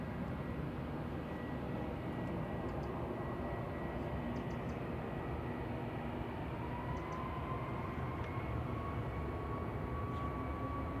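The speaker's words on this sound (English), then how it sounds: "Sun Express 595 departing to Antalya now." A SunExpress Boeing 737 MAX 8 airliner departs Manchester Airport, its engines a steady, broad distant roar that holds evenly throughout without any talking.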